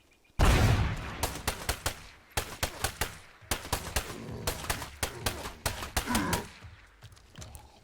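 Rapid gunshots crack out in quick uneven clusters, loud and close, forming a sustained fusillade after an initial heavy blast.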